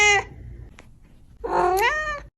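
A house cat meows twice, a short cry followed by a longer drawn-out meow after a pause, close and clear in a quiet room.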